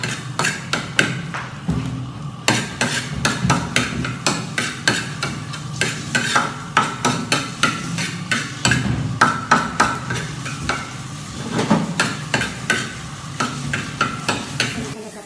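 Garlic frying in oil in a pan at night in a messy kitchen, a steady sizzle under repeated sharp scraping and tapping of a utensil stirring it, close and loud.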